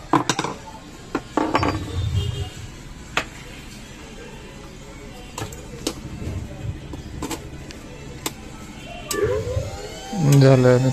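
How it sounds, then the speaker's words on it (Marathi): An electric kitchen mixer with a freshly rewound motor and a new coupler fitted: clattering handling knocks and clicks, then the motor whirs up loudly and rises in pitch in the final second. "झालं मित्रांनो मिक्सर सुरू"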